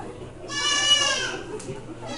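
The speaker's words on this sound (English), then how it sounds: "Some of them are Angora goats, which is a good brand" Angora goat kids bleat at a livestock auction, a single drawn-out, wavering cry rising loud in the middle and fading, with crowd murmur underneath.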